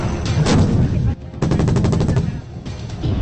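Indian Army artillery guns firing, loud booming blasts in rapid succession with a rolling, rattling burst in the middle, dense and close with no quieter gaps.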